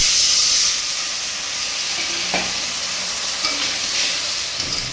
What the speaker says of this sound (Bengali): এবারে সামান্য একটু জল দিয়ে দিচ্ছি